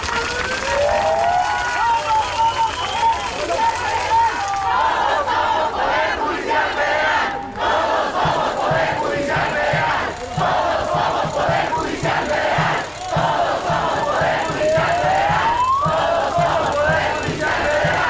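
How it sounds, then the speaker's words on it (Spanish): A large crowd at a peaceful march in central Cuernavaca cheers, chants and claps loudly and continuously, with voices layered thickly throughout. "¡Aplausos, por favor!"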